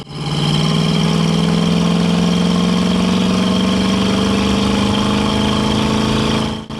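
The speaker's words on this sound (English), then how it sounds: "when you get in the throttle a little bit more, that 350 pulls well" A 1968 Chevrolet Camaro with a 350 V8 and Patriot headers drones loud and close, a steady throaty exhaust note whose pitch climbs gradually as the throttle opens, with no talking.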